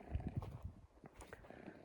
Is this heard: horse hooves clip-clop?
yes